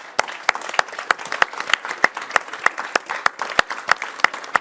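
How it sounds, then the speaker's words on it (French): Steady applause from an audience at the close of an art talk, many hands clapping densely for several seconds with no voices over it. "Je pense qu'on peut vraiment vous applaudir."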